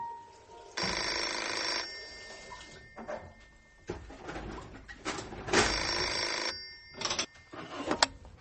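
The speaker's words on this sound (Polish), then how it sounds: "Nie minęło dziesięć minut, gdy zadzwonił telefon." A telephone rings in a radio drama set at home, with bursts of bright electronic ringing repeating in an uneven rhythm, loud and close, mixed with short clicks between the rings and no speech.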